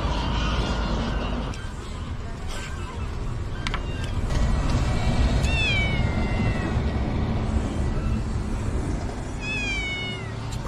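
A small cat, likened to a kitten, meows repeatedly while begging for food at a street eatery in Denizli, Turkey; thin, rising cries come over a steady bed of outdoor background noise.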